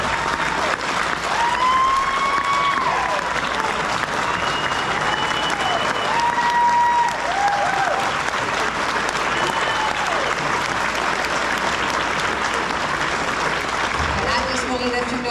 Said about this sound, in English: So stand up and applaud her.